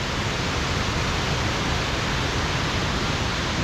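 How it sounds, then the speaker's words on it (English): A waterfall on the wild River Isla in Scotland roars steadily with dense, unbroken rushing water, loud and close, with no voices. "the roar from that waterfall right there"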